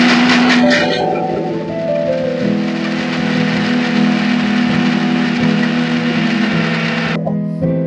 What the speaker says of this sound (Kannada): ಬನ್ನಿ ಮಿಕ್ಸಿ ಮಾಡ್ಕೊಳ್ಳೋಣ.